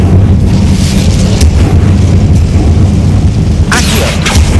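A fire spell being cast in the video game Hogwarts Legacy gives a loud, dense booming burst with rumbling low crackle, flaring again sharply near the end.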